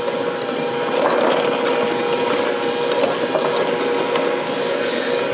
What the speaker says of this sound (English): We're gonna whisk that together.